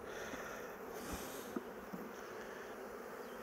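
A dense, continuous buzz of many honeybees swarming close by on a hive frame, faint and steady with no voices.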